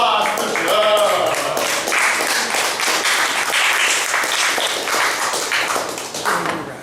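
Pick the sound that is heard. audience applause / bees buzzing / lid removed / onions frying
audience applause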